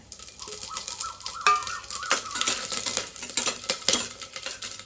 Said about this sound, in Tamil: இப்போ இதை நம்ம எண்ணெயில் வறு போட்டு வறுக்கலாங்க